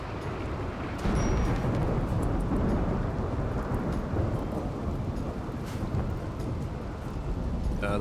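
Steady rain hiss with a low thunder rumble runs throughout a Rimworld game scene, loud and continuous, swelling slightly after the first second.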